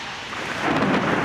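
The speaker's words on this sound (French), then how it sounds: "Ça commence comme un orage. La pluie, le tonnerre," A rumble of thunder builds over steady rain, growing louder toward the end of a short burst.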